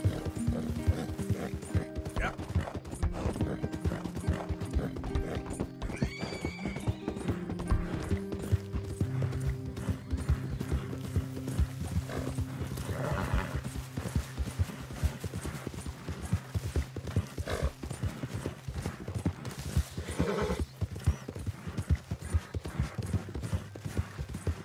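Steady clip-clop of horse hooves on a hard surface continues throughout, with a faint whinny partway through and some mechanical rattling in the background, in the video game Red Dead Redemption 2.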